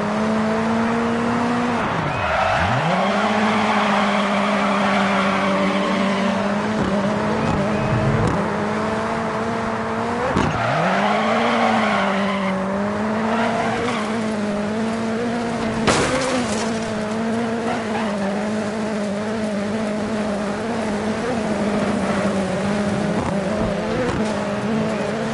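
Rallycross cars race hard in Dirt 4, a loud, close engine revving and dipping through gear changes with tire scrabble and skids, continuous over the whole stretch with no voices.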